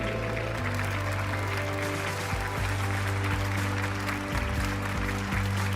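Audience applause welcoming an honoured guest on a stage show, steady dense clapping held throughout over a sustained low musical drone, fairly loud and continuous.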